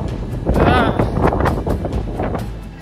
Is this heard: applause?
no